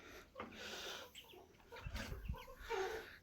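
Hens in a backyard coop cluck and squawk in short, irregular bursts at close range as they come out in the morning, with a low thump or two and no talking.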